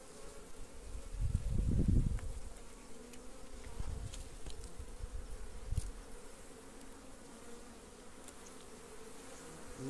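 Apis honey bees swarm around a hive in a cut cabiuna tree stump, giving a close, continuous buzzing hum. Low thumps and rustling sound early on.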